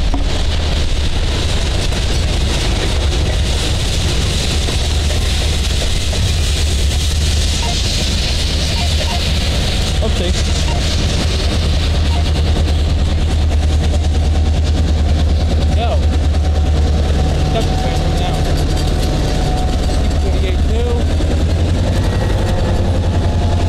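Diesel switcher locomotive 1001 running at Morrisville, a loud, close, heavy low-pitched engine throb that churns steadily for the whole stretch.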